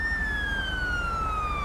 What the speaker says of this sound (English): I like the horn on this one as well. I love the siren.